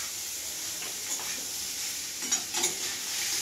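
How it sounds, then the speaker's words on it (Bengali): Pochoni fish frying lightly with onion in a pan gives a steady bright sizzle with a few soft stirring scrapes and small pops, close and without talk. "এটাকে হালকা করে ভাজবো এইভাবে।"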